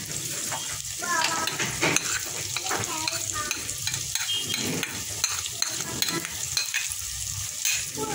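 Fennel seeds stirred into a potato kachori filling in a pan, with a steady close sizzle of frying and repeated scraping of the spoon across the pan under faint background talk.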